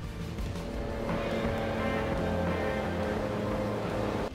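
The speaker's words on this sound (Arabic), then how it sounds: "ما زالت أصوات المحركات ليس بالصوت اللي توقع عن تجربة محركات رياضية" Racing car engines in Forza Motorsport 7 roar continuously at a steady, fairly loud level, with a brighter rising surge about a second in and no talk over them.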